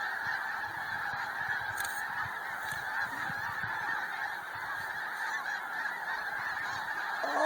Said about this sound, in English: There are just thousands and thousands of birds coming into our reservoir.